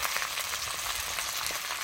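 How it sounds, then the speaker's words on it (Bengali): Onion frying with ginger and garlic paste in a pan makes a dense, even, loud sizzle that holds steady throughout, with no voices. "আদা রসুনের সাথে পেঁয়াজটাকেও আমি খুব ভালোভাবে ভেজে নেব"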